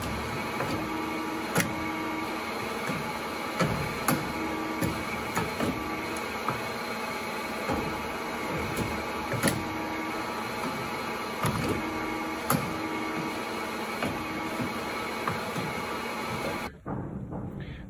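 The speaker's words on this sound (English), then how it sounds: "That's a high pressure pump, hydraulic high pressure pump, ATC arm." Hydraulic high-pressure pump on a Cincinnati CNC mill's tool changer arm hums steadily throughout, with regular mechanical clicks and knocks, then cuts off abruptly near the end; no talking.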